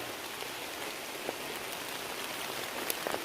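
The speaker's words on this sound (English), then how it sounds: "Hear the rain?" Steady rain pattering on a tent during a wild camp in a storm, a dense continuous hiss with a few louder drops standing out near the end.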